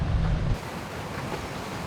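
Sailboat in choppy seas with a strong breeze: steady rushing wind and water noise, with a heavy buffeting gust at the start, then a constant close wash.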